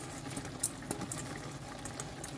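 A pot of water bubbles on a home kitchen stove while Greek food is being cooked, with a faint, continuous simmering gurgle and a few small pops, quiet and close.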